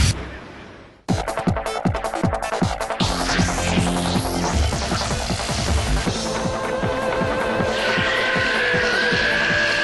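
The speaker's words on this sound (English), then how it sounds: "Where there's wheel spin, there's horsepower" A Nissan Skyline GTS-T race car spins its wheels with loud tire squeal over a hard-revving engine, starting abruptly after a brief lull and screeching continuously, close and intense.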